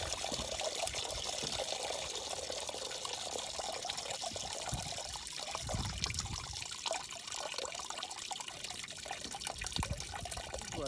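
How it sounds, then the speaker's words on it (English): Coolant drains from the radiator of a 2003 Cadillac CTS during a flush, a continuous trickling and pouring of liquid with steady splashing, moderately close and uninterrupted, with no talking. "Our tank looks like it drained out as well, which is good."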